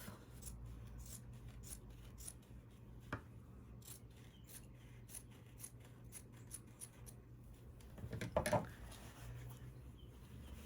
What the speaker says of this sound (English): Then I'm going to cut that excess off.